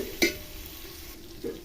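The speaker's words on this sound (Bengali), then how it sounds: "টমেটো আর পেঁয়াজটা ভালো করে ভেজে নেওয়া হয়েছে।" Tomato and onion fry in a pan with a steady soft sizzle, broken by a sharp stir or scrape near the start and another toward the end, close and moderately quiet.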